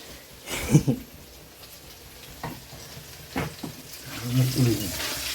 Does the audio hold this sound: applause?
no